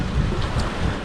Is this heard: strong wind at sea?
yes